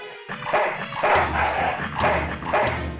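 A dog in the point-and-click adventure game Full Throttle barks and yips in a quick series of several close, moderately loud barks with low rumbling underneath.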